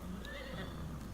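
A horse in Farming Simulator 25 gives one drawn-out whinny, close and clear over a low, steady farmyard ambience, with no talk.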